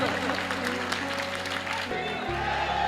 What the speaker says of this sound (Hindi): इस बात के लिए जोरदार तालियां बजाएं